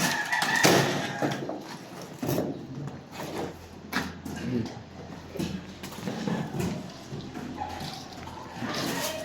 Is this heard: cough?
no